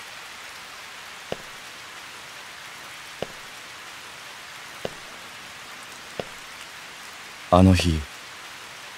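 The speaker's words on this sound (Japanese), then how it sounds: "雨が降っていた。" Steady soft rain hisses in the Oninaki game trailer, with a few sharp, isolated drips at intervals, before a voice briefly speaks near the end.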